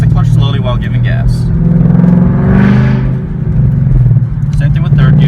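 A manual-transmission car engine rises in pitch as it accelerates after a gear change, a steady close rumble with a voice talking over it.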